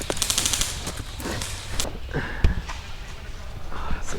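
Airsoft guns fire during an outdoor skirmish, scattered sharp pops and quick bursts at middling distance, mixed with rustling movement and people talking.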